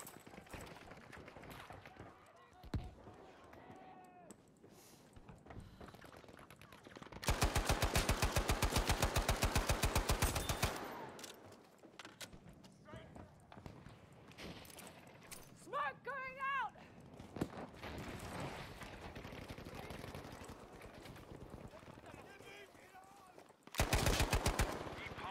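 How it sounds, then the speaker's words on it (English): An M3 grease gun in Battlefield 5 fires long, steady automatic bursts, the first lasting about three seconds and another near the end, with other gunfire in the background and someone talking between bursts. "And I'm using grease gun."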